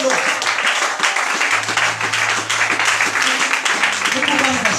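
A church congregation claps and cheers in praise during a women's seminar, steady dense applause filling the room with voices mixed in throughout.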